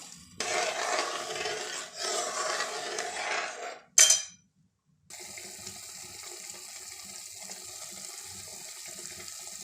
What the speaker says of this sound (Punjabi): ਥੋੜਾ ਜਿਹਾ ਪਾਣੀ ਹੋਰ ਐਡ ਕਰ ਦਿੰਨੇ